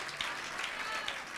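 A congregation at a Saturday satsang claps briefly, a short burst of dense applause that sounds slightly distant and stays steady throughout.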